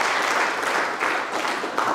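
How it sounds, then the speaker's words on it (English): Broad, even applause from a conference audience at an agriculture meeting, many hands clapping together in a full continuous wash that swells slightly and holds, with no one speaking. "So let's give them a nice round of applause."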